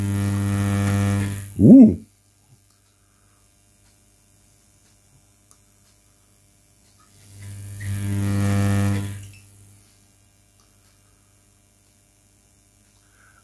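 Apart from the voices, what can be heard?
high frequency electric flame from GU81M vacuum tube coil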